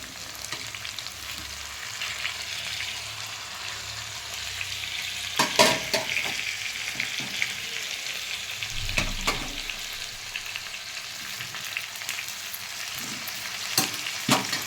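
Potato pieces, added half-cooked, fry in hot oil for a village-style curry, giving a steady bright sizzle with a few louder stirring scrapes and pops along the way, no voices.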